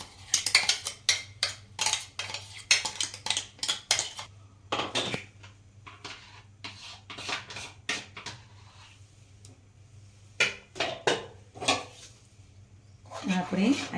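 Spoon clinks and scrapes against a pot while a ground green pea, garlic, chili and ginger paste is stirred into water, a run of quick metallic taps with short pauses, fairly close and moderately loud.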